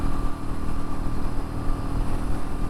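A Royal Enfield Meteor 350 motorcycle accelerating on a flat road at about 62, a loud, steady, throbbing engine drone with rumbling pulses and wind, heard from the rider's position with no speech.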